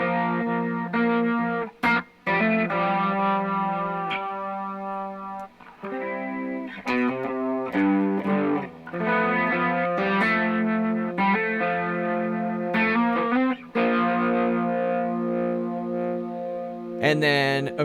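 Electric guitar through a pedalboard playing chords and melodic lines with a shimmering chorus effect and some distortion, loud and continuous with a few short pauses.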